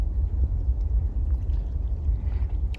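A Tallink Shuttle boat of an Estonian shipping company nears the harbour on a winter morning, its low engine rumble steady and fairly loud, with a washy background of water and wind.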